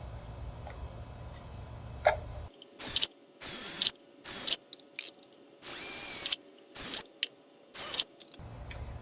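Power drill boring holes through plastic cups, prepared as containers for propagating citrus rootstock cuttings: about eight short, loud bursts of whining drill, each a second or less, separated by quiet pauses.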